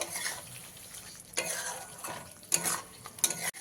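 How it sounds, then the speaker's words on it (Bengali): Fried potatoes are stirred into a spice paste in hot oil in a pan, giving a steady close sizzle with scraping stir strokes and a few sharp clinks of a utensil against the pan. "এবারে আমি এখানে দিয়ে দিচ্ছি ভেজে রাখা আলুগুলো আলুগুলো দিয়ে মশলার সাথে প্রায় এক মিনিট মতো আমি কষিয়ে নেব"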